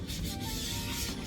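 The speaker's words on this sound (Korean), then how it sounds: "지지대가 되는 프레임의 한쪽 면만 사포질을 살짝 해주세요" Light hand sanding of one face of a pine wooden drawer frame with sandpaper, a steady close rubbing scrape that runs continuously without pause.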